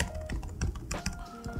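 Typing on the keyboard of a Xiaomi RedmiBook Pro 15 laptop gives quick, close, uneven key clicks and taps in short bursts, with no talking.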